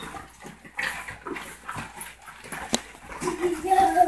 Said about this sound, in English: 6 male pit bulls.